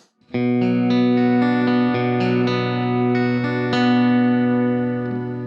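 An electric guitar on its bridge pickup plays a clean tone straight through a direct input, several sustained chords ringing clearly and alone without talk.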